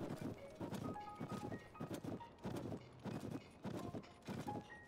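Horse hooves crunching through snow in the video game Zelda: Tears of the Kingdom, a steady rhythmic trot of soft muffled beats over faint melodic game music.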